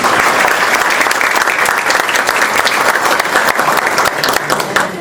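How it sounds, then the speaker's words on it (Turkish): Audience applause at a Rotary club professional service award ceremony in Denizli, a dense, steady wash of many hands clapping, loud and continuous throughout. "kendisine bir alkış rica ediyorum"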